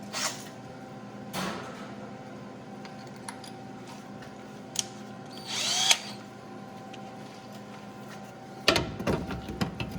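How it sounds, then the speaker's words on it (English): Power drill boring out a broken bolt hole in the exhaust manifold of a 2000 Ford Expedition 5.4 in a shop, heard in short whirring bursts near the start, middle and end over a steady hum. "Get my drill in there to clean it"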